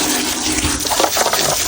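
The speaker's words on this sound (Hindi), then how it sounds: "बर्तन धोना शुरू करते हैं" Tap water gushes and splashes loudly and continuously while dishes are washed, a close, steady running stream with no voices.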